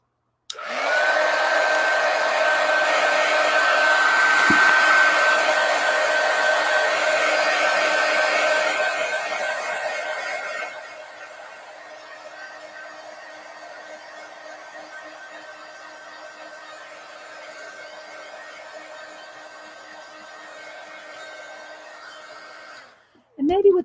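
A handheld hair dryer blows on an art journal page, a loud steady whir that drops to a lower, quieter setting partway through, then cuts off near the end with a brief clunk.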